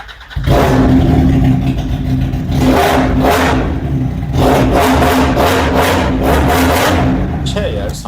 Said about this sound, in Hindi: एक्रापोविक का एग्जॉस्ट है, काफी जबरदस्त इसकी साउंड है।